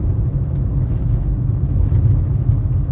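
Steady car interior rumble on a Sunday morning drive through fire-damaged Ruidoso, New Mexico, a continuous low engine and road drone with no talk.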